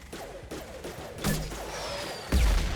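Gunfire and combat noise from the video game Mass Effect 2 come in several sharp bursts and heavy impacts over a steady background roar, loud and close.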